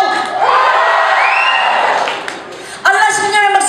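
Concert audience at a live show cheers and shouts loudly and continuously, a dense roar of voices with whoops that dips briefly near the end, then surges back up.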